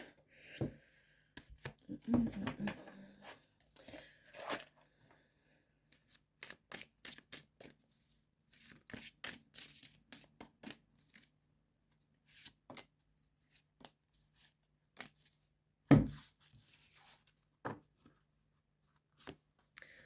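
Tarot cards handled for a reading, with quiet shuffles, flicks and slaps of cards in irregular bursts, close and soft against near silence, with one sharper tap partway through.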